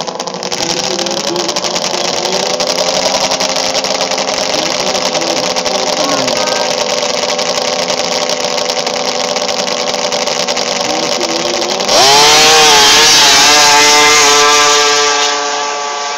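A 1998 snowmobile races down an ice drag strip, its engine a loud sustained roar that climbs sharply in pitch partway through as it accelerates hard, then holds a high scream to the end.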